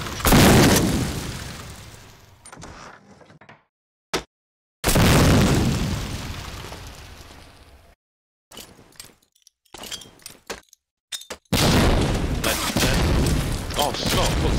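In a competitive match of a video game, grenades explode in several heavy, booming blasts separated by short quiet gaps, with a voice talking faintly between them.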